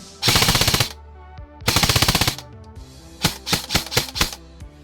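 An airsoft electric gun, a VFC or E&C model, fires loudly and close by: two rapid rattling bursts, then a quick string of separate single shots with short gaps between them.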